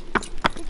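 Hooves of small show horses clop twice in quick succession at close range, two sharp distinct hits over a light background.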